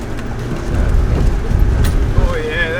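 A 4WD vehicle climbs a steep, rough track in first gear low range, its engine a steady loud low drone throughout with faint speech-like sounds near the end.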